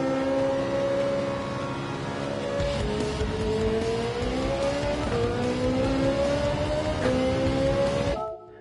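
A race car in a video game on the Nürburgring endurance track holds a loud, steady engine drone, with pitch drops and climbs as it downshifts through the gears, running without pause until it cuts off at the end.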